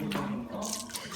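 Wet papyrus paper squeezed hard by hand while submerged in water, giving soft close-up drips, splashes and sloshing sounds over a little over a second, with no talk.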